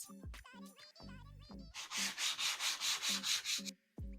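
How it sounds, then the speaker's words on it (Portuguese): Sandpaper of 120 grit rubs by hand over a pyrography wood piece in about ten quick, even back-and-forth strokes, close and scratchy, between short bits of other sounds at the start and end. "Agora eu vou lixar e depois a gente vê o depois."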